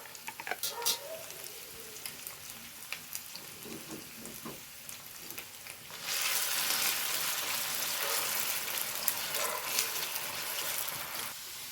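Food frying in a pan crackles softly with occasional stirring clatters, then the sizzle jumps to a louder, steady hiss halfway through, close and without talk.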